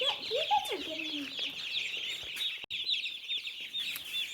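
Chicks and turkey poults in a brooder peep in a busy, continuous high chorus of overlapping chirps, fairly close, with a couple of lower squawks near the start.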